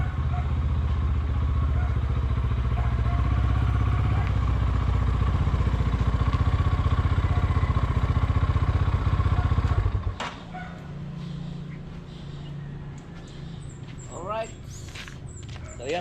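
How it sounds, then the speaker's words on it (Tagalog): Outboard motor on a small fishing boat heading out to sea, a loud steady engine drone for about ten seconds that then cuts out abruptly, leaving quieter water and ambient sounds. "ikot ko lang po yung motor at para makaalis na po tayo"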